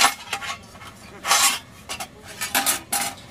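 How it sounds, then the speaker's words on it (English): A collapsible silverware set clinks and rattles as it is handled, giving bursts of metallic jangling at irregular intervals, close and fairly loud, with no voices. "I keep my collapsible silverware system put in there"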